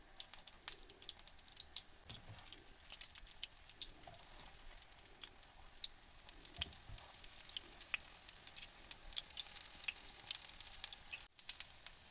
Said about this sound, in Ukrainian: смажимо на середньому вогні обсмажилися вже оладки і перевертаю